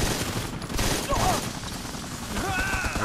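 Rapid bursts of KR-200 rifle gunfire in the mobile shooter Modern Combat 4, dense repeated shots over a noisy battlefield, with some game effect tones and a voice speaking in the background.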